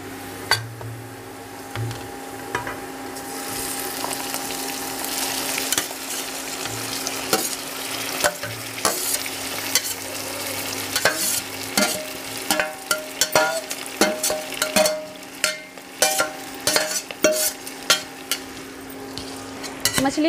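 Oil sizzles steadily in a pan over a medium flame as fish fries, with frequent clinks and scrapes of a utensil stirring against the metal.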